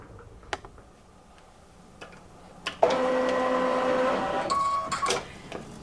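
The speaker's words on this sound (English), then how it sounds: "the first stitch is the basting box. I can see that in the preview, so I'm going to stitch that out now." Home embroidery machine stitching out a basting box for a Halloween quilt block: a steady mechanical whirring and tapping begins midway after quiet handling clicks, running continuously and fairly close.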